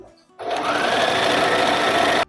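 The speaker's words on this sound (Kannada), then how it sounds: "full ಎಂಡಿಂಗಿಗೆ stitch ಹಾಕ್ಕೊತಿದ್ದೀನಿ" A sewing machine stitches the fall onto a saree, running in one steady, loud, continuous buzz for about two seconds before stopping abruptly.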